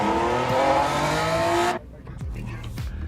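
A simulated Honda NSX race car engine in Gran Turismo 7 revs high and steady, then cuts off abruptly, followed by quieter engine bursts and shifting as the car drives on.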